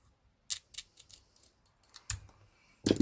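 Scissors snip ribbon bow tails for a mini boutique hair bow, with about ten crisp, separate cuts spread unevenly, then a louder rustle of ribbon near the end, close and alone.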